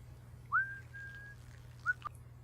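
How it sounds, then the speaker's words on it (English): Whistling from a scene in Guardians of the Galaxy Vol. 2: a rising whistled note held for almost a second, then two short higher chirps, all over a steady low background hum with no talking. "Everyone in these movies is so good at whistling."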